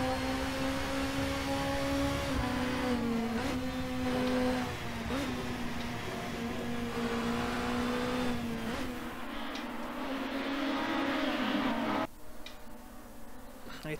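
A pack of touring cars, including Volvos and Nissans, races closely on a circuit, its engines a steady droning roar with shifting pitch as they brake and accelerate. A commentator's voice may sit faintly under the noise.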